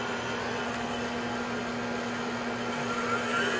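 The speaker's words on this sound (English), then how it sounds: "Okay, turn it back on. Now it's at about 66 RPM," A Baileigh 20-inch DP 1500VS variable-speed drill press runs at about 66 RPM, a steady low motor hum with a constant tonal drone and even broadband whir throughout, no talking.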